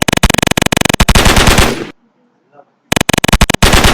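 Rapid bursts of video game machine gun fire, loud and close, broken by a sudden silence before the rattling shots resume.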